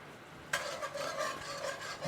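A bacon, blue cheese and sage cream sauce reduces in a pan, a soft sizzle that kicks in abruptly and then keeps up a steady, close, rasping bubble with faint stirring scrapes.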